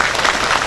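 A crowd gives a hearty round of applause at a Family Health Centre event in Chaliyam, dense, even clapping that fills the short moment.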